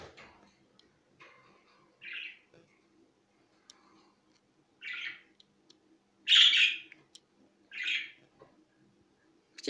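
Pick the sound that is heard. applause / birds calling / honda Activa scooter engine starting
birds calling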